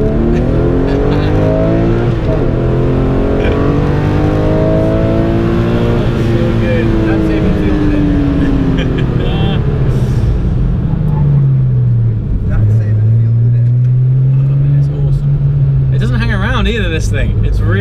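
A supercar accelerates hard around a race track at a private resort. The engine note climbs and falls loud and close through the gears, steady and unbroken for the whole stretch.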